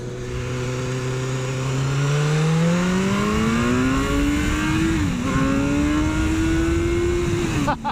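A BMW S1000R motorcycle accelerates hard in first gear, its engine note climbing steadily in a loud, close roar, dipping briefly before rising again and then cutting off.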